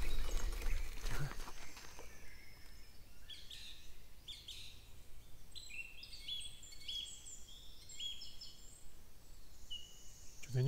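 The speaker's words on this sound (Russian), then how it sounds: "Скажите, что за птица поет?" Unfamiliar birdsong in a park in Kislovodsk, several high chirping phrases repeating after a brief low thump and rustle at the start, faint and fairly distant over quiet ambient background.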